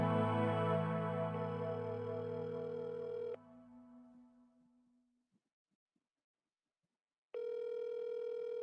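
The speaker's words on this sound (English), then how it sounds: "Reach the voicemail of Kathy Roger." A phone call rings through on the line before reaching voicemail, a steady electronic tone that stops, fades to silence for a few seconds, then sounds again, heard alone.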